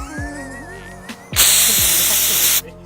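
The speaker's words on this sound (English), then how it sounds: "Let's just spray that part." A loud, steady hiss of spray bursts out for just over a second, then cuts off abruptly after some quieter handling noises.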